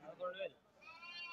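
Sheep bleat at the Kadiri sheep market, a few wavering calls rising and falling close by, with market voices and crowd noise mixed in.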